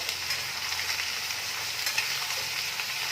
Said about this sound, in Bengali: এবার আমি এই আলু আর ঝিঙেগুলো সব এর মধ্যে দিয়ে দিচ্ছি। দিয়ে এখন এগুলোকে ভালো করে ভাজা করব।